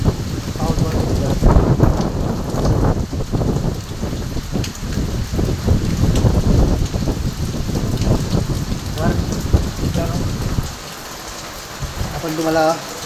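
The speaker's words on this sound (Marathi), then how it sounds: "वारा बघा, पाऊस बघा" Heavy rain pours steadily during a night storm in Surat, with gusting wind roaring over a dense, continuous wash of drops; someone speaks briefly near the end.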